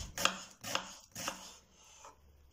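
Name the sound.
chopping dry onion finely with a knife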